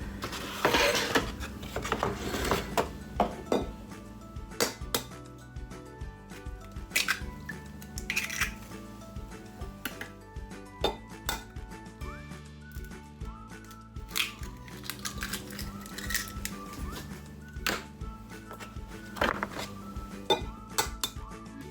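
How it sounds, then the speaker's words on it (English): Eggs and cottage cheese being beaten together in a bowl for a potato crust quiche, with steady clinking and scraping of a utensil against the dish, close and continuous, with no talking. "To beat together the eggs and the cottage cheese first."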